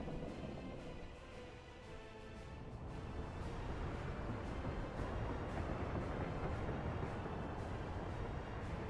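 A train moving in the video game Workers & Resources: Soviet Republic, rendered as a steady, broad rumble that swells after the first few seconds and holds evenly without pauses.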